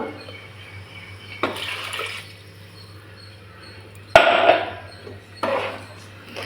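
A few separate pours of water from rinsing a mixer jar land in a cooking pan with splashy hisses, one starting with a sharp knock of the jar against the pan's rim.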